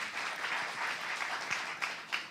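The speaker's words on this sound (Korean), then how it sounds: "나의 뜻보다 하나님의 뜻이 더 높고 깊고 넓다고 생각하는 사람만 박수로 하나님께 영광 돌리겠습니다." Quiet, sustained applause from a church congregation at a Saturday worship service, many hands clapping in an even wash heard from some distance, with a few sharper claps standing out near the end.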